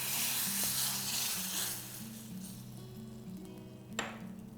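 Asafoetida (hing) hits hot oil for a South Indian beetroot rasam, giving a loud sizzle that fades to a softer crackle, with a faint utensil clink near the end.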